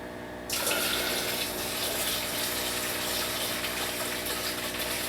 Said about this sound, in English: nothing to do now but to try pouring in some water and see what happens.